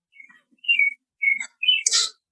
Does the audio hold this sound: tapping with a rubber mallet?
no